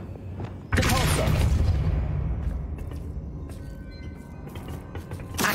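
The Depulso spell in Hogwarts Legacy is cast with a sudden, forceful whoosh and boom, then a decaying rumble and scattered magical clinks and effects.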